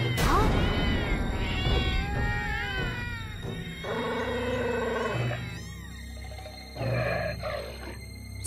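Several cartoon wild cats meow and yowl in overlapping, drawn-out cries, close and fairly loud, with brief pauses between calls.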